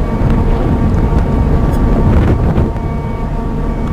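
Steady rumbling of a boat moving through water, loud and close, with constant wind buffeting the microphone and no one speaking.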